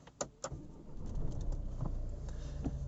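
A Renault Laguna III starting up: a couple of sharp clicks, then the engine catches and settles into a steady low idle rumble, heard close from inside the car.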